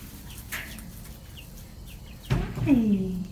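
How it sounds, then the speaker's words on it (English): Young chicks being raised at home give a few soft chirps and peeps, then a louder clucking call rises near the end, heard up close against a quiet indoor background. "Hi, chicken babies."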